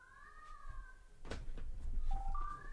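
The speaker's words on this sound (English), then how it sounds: "Do you hear that cat?" Cat meowing in two drawn-out tonal calls, one early and one near the end, fairly close in a room with soft background noise and a sharp broadband knock in between.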